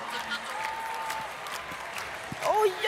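Audience applause and cheering for Anna Bergendahl at the Melodifestivalen 2010 final, a steady wash of clapping from a large arena crowd, with a presenter's voice rising near the end.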